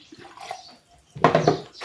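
Water splashes briefly into a sauce mixture of soy sauce, oyster sauce, sesame oil, sugar and cornstarch. The pour is a short, close burst after a quieter stretch, with no talking.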